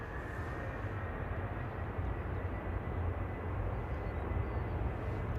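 An airliner bound for Fuerteventura at Manchester Airport makes a steady low jet rumble, continuous and moderately loud throughout, with no voices.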